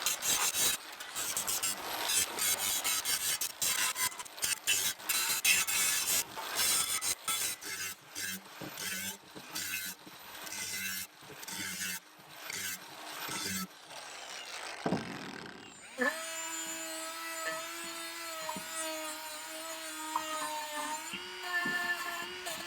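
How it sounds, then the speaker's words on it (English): An angle grinder deburrs the edges of a water pump fan, rapid rasping strokes in repeated bursts for about fifteen seconds, then a steady high-pitched whine. "we're gonna take the grinder real quick and clean that up"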